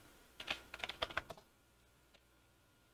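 Quick burst of computer keyboard typing for Roblox chat, a cluster of crisp key clicks over about a second, then near silence with a couple of faint isolated taps.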